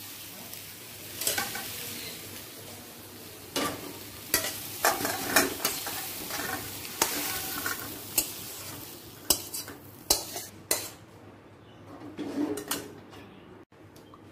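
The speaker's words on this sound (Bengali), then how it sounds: "সয়াবিনটা আলুর সাথে হালকা করে ভেজে নেব" Soybean chunks and potato pieces lightly frying in a pan for a vegetarian soya curry, with a steady soft sizzle and repeated close scraping and clinking stirs, no talking.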